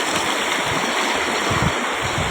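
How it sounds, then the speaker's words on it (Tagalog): Strong river current flowing fast and steady, a loud, continuous broadband rush of water close by with no talk over it. "Malakas yung agos."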